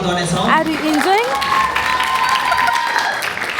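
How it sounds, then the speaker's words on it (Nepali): Audience at a pre-Christmas church program in Atlanta applauds to welcome dancers, a dense wash of clapping and crowd noise throughout, with a voice and music-like tones running over it. "ताली बजाएर स्वागत गर्नेछौँ।"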